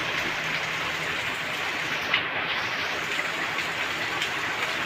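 Steady, dense hiss of heavy rain falling, a constant wash of sound with no breaks throughout.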